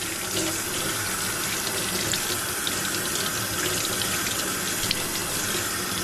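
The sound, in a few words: tap water rinsing fluke fillet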